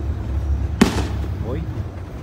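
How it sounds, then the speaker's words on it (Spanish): A single sharp rocket or firecracker bang bursts out at a village fiesta in Gallos Grandes, Tula, in the Sierra Tamaulipeca, with a short rolling echo afterward over a low background rumble and faint voices. "Está tronando los cohetes."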